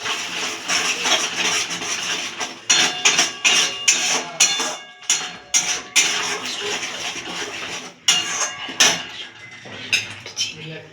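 Utensil clattering against a pan while katla fish is stirred with yogurt and spices, irregular metallic scrapes and knocks in bursts with short pauses, close and fairly loud.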